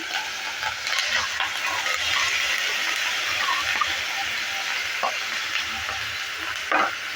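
Marinated soybeans hiss and sizzle steadily in a hot pan, a dense close frying crackle with occasional stirring clinks throughout.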